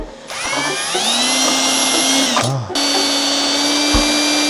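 A power drill whines steadily at high speed while drilling through metal for an intercooler mount, briefly dips and stops, then spins up again and keeps running loudly.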